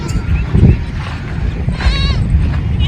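Goats bleat at a busy livestock market in Jhelum, a loud wavering bleat rising over crowd noise and background chatter, with other animal sounds close by.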